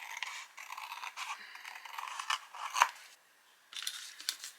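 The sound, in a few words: scissors cutting card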